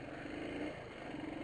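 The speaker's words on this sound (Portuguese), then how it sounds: "Bela moto." A motorcycle engine drones steadily at close range for the whole moment, a continuous rumbling hum with no voices over it.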